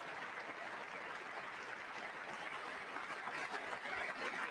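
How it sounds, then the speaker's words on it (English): Sustained applause from the chamber audience during a State of the Union address, a steady dense clatter of many hands, faint and distant throughout. "Look at the Democrats clap for that one."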